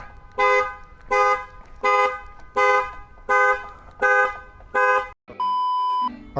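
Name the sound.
2013 Mustang GT car alarm triggered by the panic button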